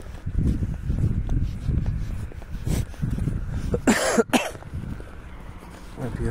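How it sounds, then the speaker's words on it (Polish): A man coughs outdoors near fields and woodland: two harsh, closely spaced bursts right at the microphone, loud against a steady low rumble of wind and handling noise. "Kaszel męczy."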